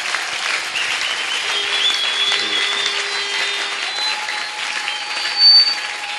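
Sustained applause from a church congregation during a sermon, steady, dense clapping that stays even for several seconds with a slight swell near the end.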